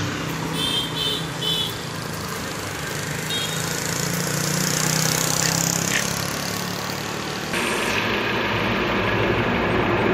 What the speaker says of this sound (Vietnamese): xin mời tất cả mọi người cùng em kiểm tra phần động cơ của chiếc Mercedes 180 này